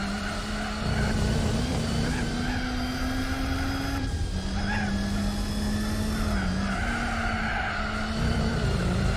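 A race car in the Gran Turismo 4 video game brakes hard into an uphill zone, a sustained engine drone with long tyre squeals running through it, loud and continuous.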